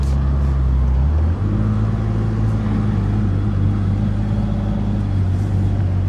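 A car driven on desert sand in Dubai, its engine revving and straining with a loud, steady low drone and a shift in pitch early on, heard from inside the vehicle, with no talk.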